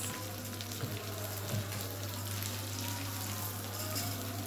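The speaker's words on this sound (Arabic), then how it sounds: "بس الرز بتاعنا اتشوح اهو" Rice sautés in a pan for yellow-lentil koshari, giving a steady, close sizzling hiss that runs unbroken for a few seconds over a low constant hum, with no voices.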